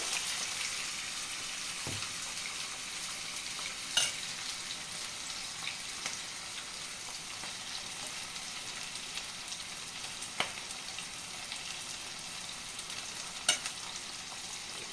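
Continuous soft sizzling of onions frying in a pan with bitter gourd pieces, a steady hiss with occasional light clicks and pops of stirring throughout, no talk.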